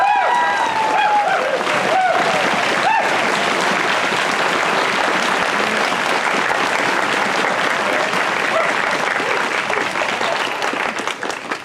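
Sustained applause from an outdoor pops concert audience in a park, honoring orchestra members who serve or served in the military; dense steady clapping fills the whole stretch, fading slightly at the end.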